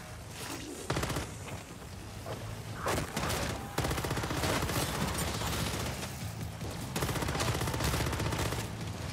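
Rapid gunfire in MW3 Zombies as zombies are shot down, with dense sustained automatic bursts and a few louder booms. The shots are close and continuous, and a voice is faintly audible underneath.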